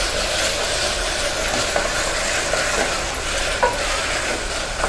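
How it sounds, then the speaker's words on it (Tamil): Tomato sizzles as it is sautéed and stirred in a pan, a continuous frying hiss with occasional light clicks from the stirring, close and steady. "தக்காளி நல்லா வதங்கி வரணும்"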